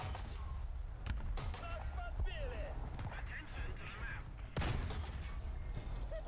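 Sharp cannon and gun reports punctuate a War Thunder tank battle, one heavy blast standing out among scattered shots and clanks, with voices talking through the action.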